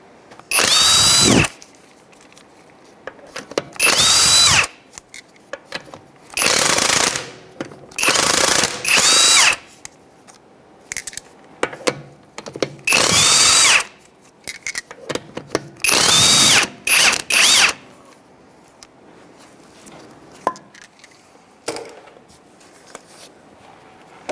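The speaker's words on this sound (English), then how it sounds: "We're going to use a 17mm socket and go ahead and take out the lug nuts and the tire." A power impact tool with a 17mm socket spins lug nuts off the front wheel of a 2007-2013 Mitsubishi Outlander, loud close whirring bursts repeating in an irregular rhythm with short quiet gaps between them.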